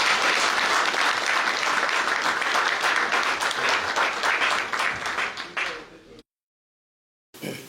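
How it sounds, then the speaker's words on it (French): Crowd applause and acclamation at a ceremony in Gabon designating the transition president, a dense loud wash of clapping and cheering that fades out before a brief silence. "Une acclamation pour le Seigneur."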